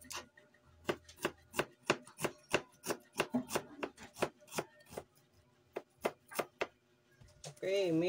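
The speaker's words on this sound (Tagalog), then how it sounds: "Slice na ta sa ahos guys." Garlic sliced with a knife on a cutting board, a run of about twenty crisp, evenly spaced chops, close and distinct, briefly interrupted by a quick rustle at the end; no one talks over it.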